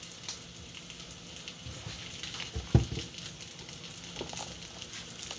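Butter melting in a frying pan while making breakfast gives a faint, steady sizzle and light crackle, with one brief sharper pop partway through and no talking.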